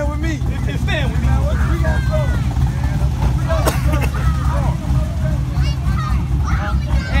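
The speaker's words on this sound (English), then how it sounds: "Right here, this is loud exhaust." Car engine with loud exhaust at a rev battle during a car speed festival, a steady, heavy low rumble running throughout beneath crowd chatter and nearby voices talking.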